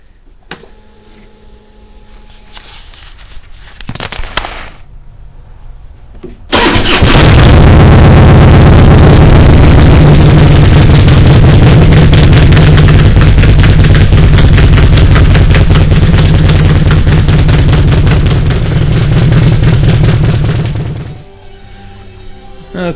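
A Harley-Davidson motorcycle with its stock exhaust, heard before a Fullsac true duals install: quiet background at first, then the engine starts and runs loud and close with rapid, chopping exhaust pulses and revving before cutting off.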